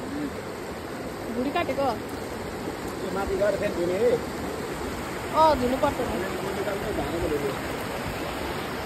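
A flowing river stream makes a steady broadband rush throughout, with people talking over it at close range where tripe is being washed at the riverside.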